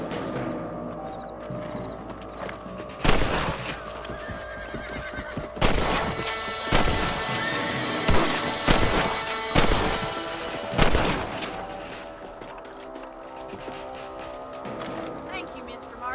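Rifle shots ring out at rabbits on a ranch in Red Dead Redemption on Xbox 360, several sharp cracks spaced a second or two apart, with a horse whinnying and people talking between them.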